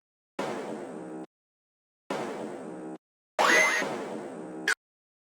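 Synth noise accents built from Serum's Geiger noise with ring modulation and EQ, heard as three separate bursts of bright hissing whoosh, the last with a sweeping laser-like pitch rise and sharp tail, each cut off cleanly into silence.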